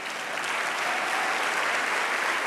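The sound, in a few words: audience applause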